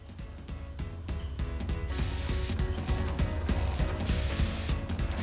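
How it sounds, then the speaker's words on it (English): A tatami replacement machine cuts and sews straw mats at once, giving off a loud, continuous mechanical clatter of rapid ratcheting clicks and grinding gears that runs steadily through the whole stretch. "They're cutting the straw mats while sewing at the same time."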